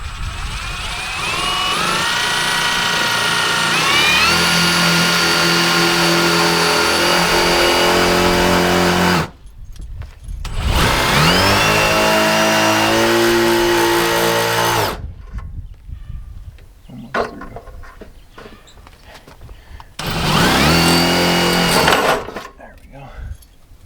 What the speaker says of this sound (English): we'll just drill a pilot hole here